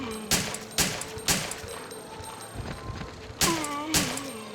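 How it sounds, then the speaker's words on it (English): Rapid handgun fire in the video game Resident Evil 3 sounds as a quick series of sharp, loud shots, about three in a row, a pause, then two more, with faint game sounds between them and no voices. "I'm actually firing the handgun a little bit faster than average"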